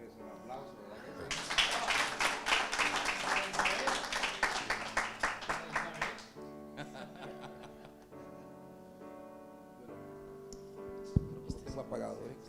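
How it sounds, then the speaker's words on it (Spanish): Audience applause at a conference, a burst of many hands clapping rhythmically for several seconds with some laughter, then dying away as a speaker talks and fumbles with a microphone. "Eso merece un aplauso, ¿verdad?"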